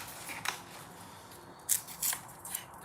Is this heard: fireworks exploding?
no